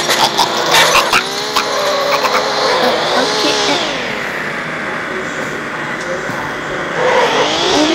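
Video game car engine revving and sliding through a drift, its pitch rising and falling with the throttle, loud and continuous with brief tire-squeal accents.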